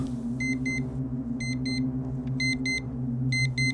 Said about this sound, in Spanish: Ahí mi alarma por fin sonó.